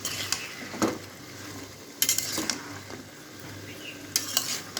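Vegetables including flat beans and potato are stirred in a cooking pan, with a few sharp scraping clatters of a utensil against the metal over a low background hiss, close and fairly quiet, with no talking.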